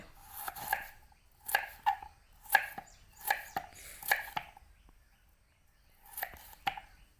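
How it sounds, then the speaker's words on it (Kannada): Raw native papaya being chopped into small pieces with a knife, about eight to ten crisp sharp chops in uneven bursts, close and fairly loud with short pauses between them and no voices. "ಈ ರೀತಿ ಸಣ್ಣದಾಗಿ ಕಟ್ ಮಾಡ್ಕೋಬೇಕು ಮೊದಲಿಗೆ"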